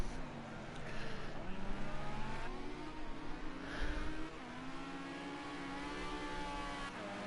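An LMP race car engine in the video game Project CARS 2, racing in a European Endurance Cup round at Hockenheim GP. The loud, steady engine drone rises and falls in pitch through gear changes.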